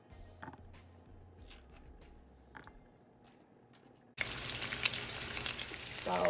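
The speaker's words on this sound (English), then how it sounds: "once my bell peppers start sizzling like this" After a few soft clicks and kitchen sounds, a loud, steady sizzle suddenly starts as bell peppers hit a hot pan with olive oil and keep frying.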